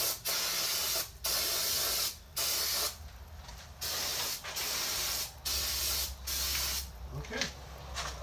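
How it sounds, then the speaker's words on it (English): Starter fluid sprayed from an aerosol can as a cleaner on Ford 8.8 axle parts, several short hissing bursts of about a second each with brief pauses between, close and fairly quiet. "Oh, guess what? Another thing of starter fluid."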